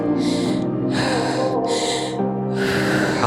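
Heavy breathing right after a plank exercise, four loud, rasping gasps in and out in a steady rhythm, close to the ear with no words spoken.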